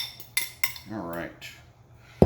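Carbonara sauce base of eggs being mixed in a bowl, with a few sharp clinks of a metal utensil against the bowl, a brief scraping swirl and a final clatter, close and fairly loud.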